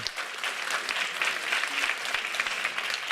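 A church congregation claps continuously, a dense steady patter of applause throughout with no pauses.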